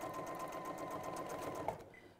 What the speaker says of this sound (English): when you're running on your sewing machine